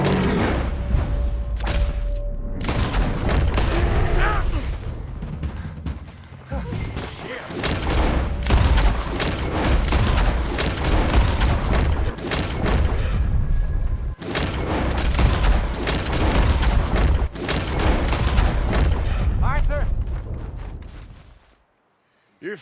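Gunfire and heavy booming blasts in Red Dead Redemption 2 during a frantic fight, loud and dense with repeated bursts and impacts, continuing almost without pause, with shouted voices mixed in.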